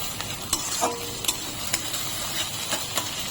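Curry leaves hit hot oil in a pan with asafoetida, giving a steady close sizzle broken by a few light scrapes of a stirring spoon.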